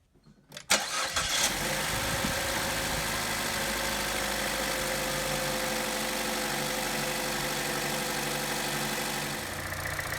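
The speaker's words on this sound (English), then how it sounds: "Now let's go ahead and go start the car and make sure we have no noise coming through here." A Chevy Trax engine cranks and catches after a valve cover replacement, then settles into a steady, even idle that runs for several seconds, close and alone with no talking.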